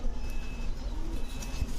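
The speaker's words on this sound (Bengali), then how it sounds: "এটা হচ্ছে ব্ল্যাক রেসার একটা মাদি কবুতর।" Soft low cooing from a female black racer pigeon, close and quiet, a short murmuring call against light background noise.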